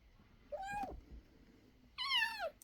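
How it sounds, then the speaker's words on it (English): A tiny trapped kitten meowing, two separate high plaintive cries a second or so apart, the second louder and longer, close and alone in a quiet room. "I hear this kitten crying from the other room"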